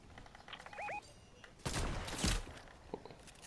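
Enemy gunfire in Fortnite sounds as a few fast bursts of shots at moderate distance, mixed with game effect tones and light footsteps, with some faint talk.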